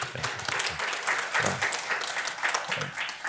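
Audience applause at a leaders' dialogue event, a steady wash of clapping from a crowd lasting the whole moment, moderately loud with no voices over it.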